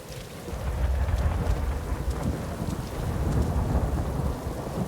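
Thunder rumbles through a steady downpour of rain during a storm, a dense, continuous low roar with heavy rain noise throughout and no voices.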